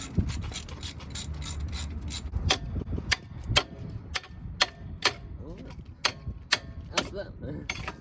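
Brake caliper being removed from a 12-valve Cummins truck, with rapid ratchet clicks, metallic taps and clanks in irregular bursts close by and brief voices in the background.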